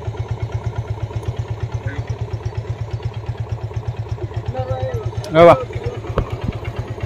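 A motorbike engine idles nearby with a fast, even low thump throughout, while a person speaks briefly and a short loud clatter cuts in near the end.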